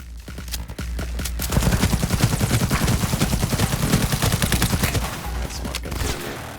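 The smart gun in Cyberpunk 2077 fires a rapid, loud burst of automatic shots in a steady stream for several seconds, with scattered single shots before and after.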